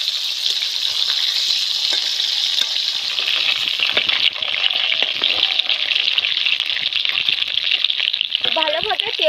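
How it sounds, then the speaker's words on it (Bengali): Pieces of katla fish sizzle steadily in hot oil in a home kitchen, a dense continuous hiss of frying that stays loud throughout, with a brief faint scrape near the end. "মাছ এক সাইড ভাজা ভালোভাবে ভাজা হয়ে গেছে,"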